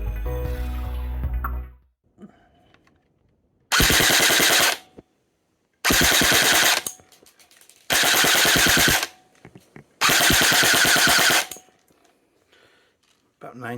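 An E&C Strike Patriot PDW airsoft gun firing full auto in four separate bursts of about a second and a half each, a rapid loud mechanical clatter close by, with near silence between the bursts.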